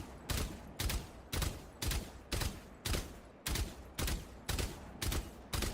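Rapid bursts of gunfire from the tactical shooter Valorant, about ten evenly spaced loud shots in a steady rhythm, heard alone without any talk.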